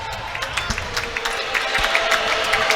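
Restless crowd murmur filling a college basketball gym during a YU Macs men's game against Old Westbury, late in a close game with a free-throw stoppage, with scattered claps, shouts and chatter steady throughout.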